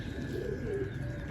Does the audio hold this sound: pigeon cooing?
yes